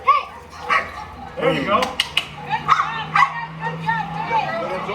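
A young dog yips and whimpers in short bursts during bite work training while an agitator works it on a tug. People talk over the dog throughout.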